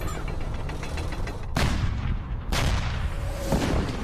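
Soviet artillery fires at a German Tiger tank in the World War II Battle of Kursk. Several heavy booms land about a second apart over a dense, continuous rumble of battle noise.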